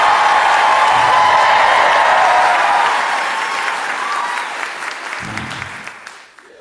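A live comedy audience in Dallas, Texas bursts into loud, sustained applause and cheering for comedian Josh Johnson, slowly fading after a few seconds.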